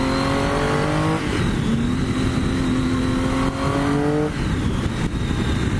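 Motorcycle engine revving up through the gears, its pitch climbing, dropping briefly at each shift near 1.2 and 4.3 seconds, then rising again; loud, close and steady with no talk.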